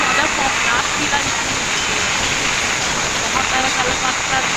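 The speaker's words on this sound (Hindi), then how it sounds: "और आवाज़ सुने बारिश की, इतनी ज़्यादा तेज़ बारिश हुई है" Heavy winter rain pours down through the night in a dense, continuous hiss, loud and steady throughout with no break.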